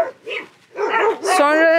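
Dogs bark close by in short, loud yips that rise into a whining, drawn-out howl, with brief gaps between calls.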